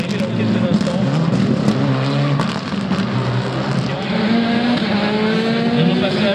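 A WRC rally car races past at speed on a stage in Strasbourg, its engine note loud and continuous with rising and falling pitch, while a commentator talks over the roar throughout.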